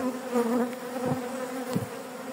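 Honeybees hum steadily at an opened hive colony, a close, continuous drone with individual bees swelling louder as they pass near.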